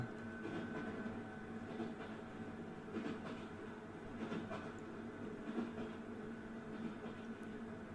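A train running along its tracks: a steady, continuous rumble with faint rhythmic clatter throughout, heard from inside or close by, with no voices.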